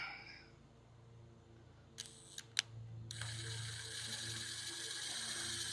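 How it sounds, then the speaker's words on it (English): Three-inch screws driven into wood with a power driver: a few sharp clicks, then a steady, close whirring drive that runs to the end, with no voices. "Not quite 4, 3-inch screws. We will drive right in here."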